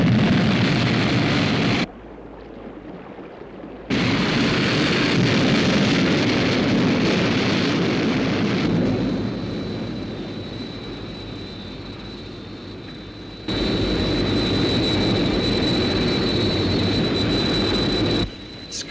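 Sky One craft roars into lift-off, a loud rumbling engine blast that cuts out and resumes in long surging bursts, thick broadband roar swelling and dropping over nearly twenty seconds.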